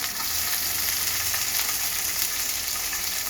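Carrots and capsicum frying in a hot pan, giving a steady, close, dense sizzle with faint stirring scrapes throughout and no talking.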